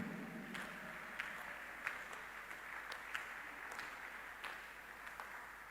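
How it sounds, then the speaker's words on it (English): A large audience claps in a steady, moderately distant spatter of applause, with occasional sharper individual claps standing out over the continuous patter. "Clap before I continue."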